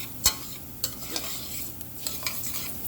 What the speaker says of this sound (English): you just want to stir this right here